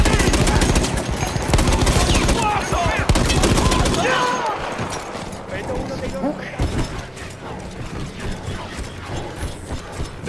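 Machine gun fire in Battlefield 1, a heavy mounted gun once manned by Austro-Hungarian troops, hammers in a dense, loud stream for the first four seconds, then gives way to scattered mechanical clatter and distant shots with some talk.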